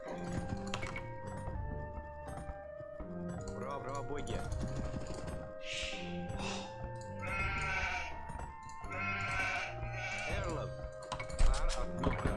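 Sheep bleat repeatedly in the Age of Empires strategy game, set against looping game music and interface clicks, with the bleats standing out in the middle of the stretch.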